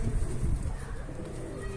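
Pet pigeons cooing in a brief low murmur up close, with a person's voice mixed in.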